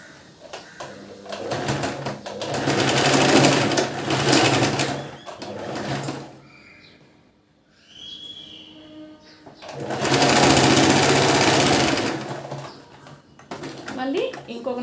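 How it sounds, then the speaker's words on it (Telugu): Sewing machine stitching a princess cut blouse, running in two long loud bursts with a quiet pause between, then starting again at the end; someone speaks in the gap. "మీకు కుట్టి చూపిస్తాను ఇట్లా"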